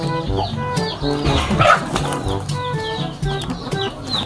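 Chickens and a rooster clucking and squawking amid flapping wings, a busy flurry of poultry noise close by, with no speech.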